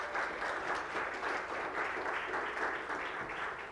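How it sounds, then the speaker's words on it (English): A church congregation applauding at a ministry anniversary service, steady sustained clapping from many hands in a room, even in volume throughout. "So I give her applause today"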